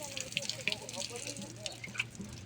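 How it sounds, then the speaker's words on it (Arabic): Water splashes and trickles while plants are watered from a punctured can used as a shower in a tent in Gaza, with light drips and spatters and faint voices in the background. "بدنا نسقي زرعتنا"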